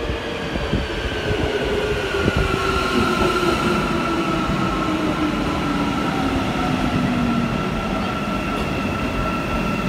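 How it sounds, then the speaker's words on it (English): Istanbul metro train heard from inside a moving carriage, a steady loud rumble of wheels on rails with a long rising-and-falling wheel squeal and occasional clacks, no talking. "metro orqali ketyapmiz o'sha yerga"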